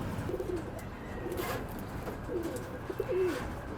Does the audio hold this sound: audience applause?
no